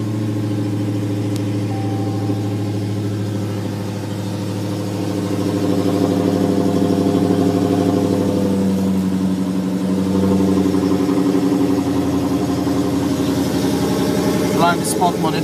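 A 2016 Dodge Challenger Hellcat's supercharged engine idling with a deep, steady rumble, swelling louder midway as it runs, close by, under a voice.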